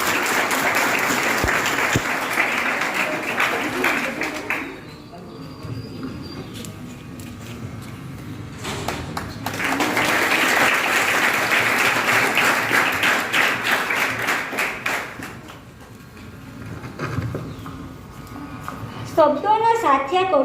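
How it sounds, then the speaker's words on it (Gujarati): An audience at a high school cultural programme in Valvada applauds to welcome the principal and staff, two sustained waves of dense clapping separated by a quieter stretch, with faint voices underneath. "અહીંયા ઉપસ્થિત માનનીય આચાર્યશ્રી તથા સ્ટાફ મેમ્બરને આપ સૌ તાળીઓથી સ્વાગત કરીશું."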